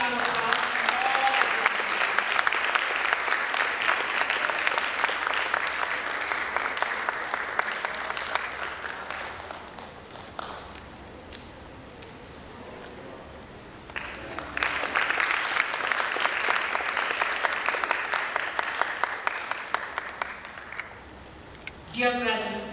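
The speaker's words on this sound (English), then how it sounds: "Let's have a big round of applause." Graduation ceremony audience applause rises in two long waves of dense clapping, dipping to a quieter spell in between before swelling again, with some voices mixed in beneath the crowd.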